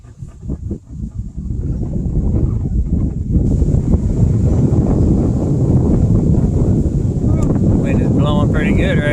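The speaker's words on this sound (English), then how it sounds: "Wind is blowing pretty good right here." Strong wind gusts buffet the microphone during a boat ride on the Pigeon River, a loud continuous roar that builds after the first few seconds, with a voice speaking over it.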